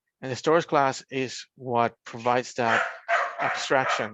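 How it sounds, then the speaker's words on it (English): A dog barks in the background of an online technical meeting, with a few quick yips heard beneath a man's steady, continuous speech. "Sorry for my dog."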